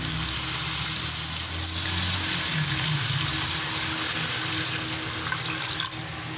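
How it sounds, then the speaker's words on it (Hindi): Water pours steadily from a vessel into a cooking pot of fried masala and meat for salted Peshawari gosht, a continuous close gushing splash that thins out slightly toward the end. "और इसके साथ ही हम ये पानी डाल देंगे इसमें"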